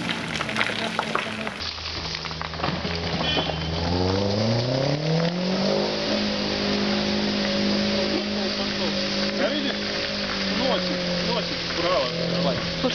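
A Renault Duster's engine revs hard during an off-road trophy trial, its pitch climbing and holding as the car pushes through rough ground, with people talking in the background.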